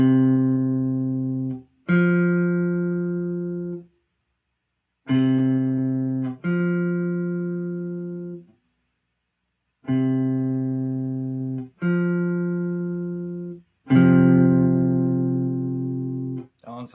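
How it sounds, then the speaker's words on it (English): A perfect fourth interval played harmonically, two sustained tones sounding together as a clean electronic-style chord, repeated in short held notes with brief gaps between them. "So that was a perfect fourth again."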